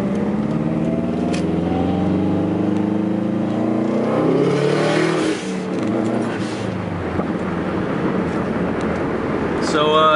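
A car with a Stage 3 competition clutch, freshly broken in and in need of a tune, revving and pulling away, the engine tone climbing in a few rising sweeps before easing off.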